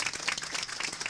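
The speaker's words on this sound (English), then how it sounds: "Let's give him an applause and welcome our upcoming Governor Tim Walz" Crowd applause welcoming gubernatorial candidate Tim Walz at a New Americans voting rally in Minnesota, a brief dense burst of clapping from many hands, fairly faint and diffuse.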